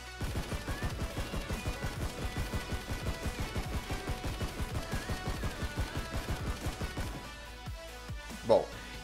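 SCAR rifle fire in the shooting game Knives Out rattles out in a steady rapid burst of evenly spaced shots, each with a sharp low thump, stopping abruptly before a lone faint click.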